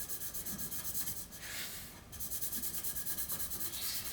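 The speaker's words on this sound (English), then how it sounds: "scrape over it with your hand or just rub over it" A hand rubbing holographic vinyl onto a tumbler makes a steady, close, rhythmic scraping swish that runs continuously with a short pause, and no voices are heard.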